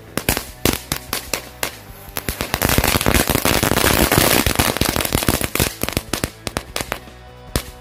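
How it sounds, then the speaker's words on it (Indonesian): A full pack of dino egg firecrackers (mercon telur dino) going off outdoors at night, a loud dense chain of crackling pops and bangs that builds into a continuous rattling barrage, then thins to scattered snaps. "Mercon telur dino pretek"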